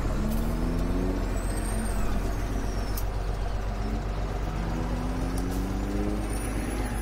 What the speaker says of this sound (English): Oh, I need a truck for this. Let's get this truck out there.